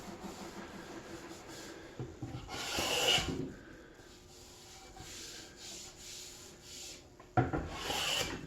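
A small Bailey hand plane finish-planes timber on a timber-framed table base, with some spalting in the wood. Soft rasping strokes swell and fade, with a louder pass near the start and another at the end.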